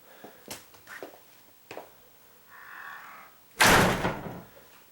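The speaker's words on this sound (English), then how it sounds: "Boy, it sounds like an earthquake when that door closes." A self-closing door on hinges that need adjusting slams shut with one loud, heavy, booming bang that rings briefly, after a few lighter knocks and creaks of the door moving.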